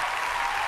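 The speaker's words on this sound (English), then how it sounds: "I'll give you a clap." A brief burst of clapping at the close of a sketchbook art talk, a short, dense patter of hands that stays steady and moderately loud for under a second.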